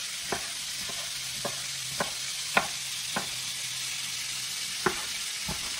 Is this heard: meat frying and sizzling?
yes